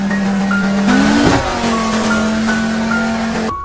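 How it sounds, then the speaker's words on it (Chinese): A motorboat engine starts and drives off toward shore in an animated scene, its steady motor hum and rising revs close and loud throughout, with no talk. "贝利亚马上发动快艇向岸边驶去"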